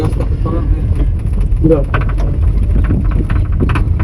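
A car driven by a learner driver practising clutch and accelerator control rumbles steadily at low speed with wind buffeting, while people talk throughout.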